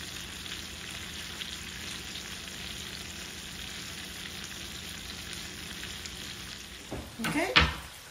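Delicate cod fillet pan frying, a steady even sizzle holding close for several seconds, then a burst of louder crackling spatter at the end, with no talk.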